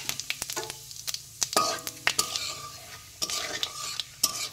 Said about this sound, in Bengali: ফোড়নটা একটু লাল লাল করে ভেজে নেব।